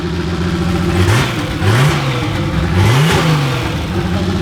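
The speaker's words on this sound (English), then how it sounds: "Runs pretty good. Now there's turbo noise too." A turbocharged BMW E30 engine runs loud and close, with several short revs rising and falling over a steady rumble and a faint hiss of turbo noise.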